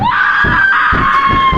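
A woman's loud, sustained screams in a horror video game, several long anguished wails back to back, close and intense.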